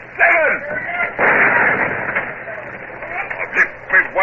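Naval cannon firing in a radio drama of Horatio Hornblower, several muffled booming blasts amid band-limited, radio-style sound with a voice speaking between shots.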